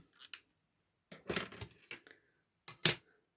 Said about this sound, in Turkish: Öncelikle keçemi keseceğim.